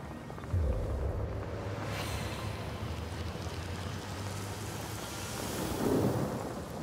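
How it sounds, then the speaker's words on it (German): Rainfall and a low rumble of thunder summoned by a rain spell in the video game Divinity: Original Sin, a steady wash of rain with a heavier swell near the end, no voices. "Aber ich kann es wieder regnen lassen."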